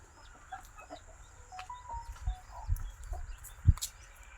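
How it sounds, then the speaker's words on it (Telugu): A fighting rooster clucks a few times, soft and scattered, over a low rumbling poultry-farm background in Soupadu village, with a few louder bursts near the end. "ఈ కోడి ఇది పందె పుంజు"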